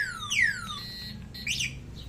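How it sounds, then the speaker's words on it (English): An anti-theft alarm on a 001-B Transformer e-bike chirps with quick electronic sweeps sliding down in pitch, then a shorter warbling burst, fairly faint over a quiet background. "magtutuloy-tuloy na po yung alarm niya"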